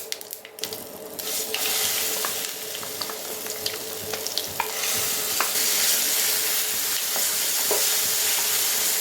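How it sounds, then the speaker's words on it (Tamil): Ground chutney stirred into fried mustard seeds crackles and sizzles loudly and close, with repeated spoon scrapes and a brief quieter stretch at the start that swells to a constant frying hiss. "சட்னியை சேர்த்து நல்லா கலந்தாச்சு"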